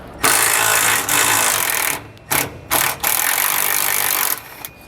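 An impact wrench with a deep well socket runs on a rear suspension bolt of a 2022 Jayco travel trailer during a Timbren suspension enhancement install, a loud, close mechanical whirr in several long bursts with short pauses between them.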